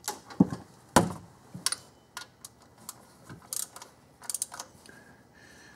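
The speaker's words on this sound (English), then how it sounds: "Alright, we'll torque this up." A wrench tightens the tensioner bolt on a water pump and idler pulley job, giving scattered metallic clicks and ratchet ticks at close range, irregular and fairly faint, with no talking.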